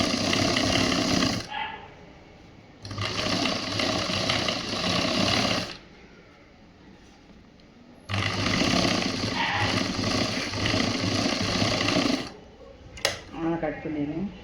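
A sewing machine stitches a government school uniform shirt in three loud, steady bursts of mechanical whirring, separated by short quiet pauses.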